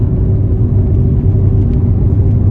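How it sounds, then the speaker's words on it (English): A steady low engine rumble and road drone fill the space continuously, loud and close, from inside a moving car accelerating to pass a slow vehicle. "Excuse the engine noise, trying to get past this slow vehicle."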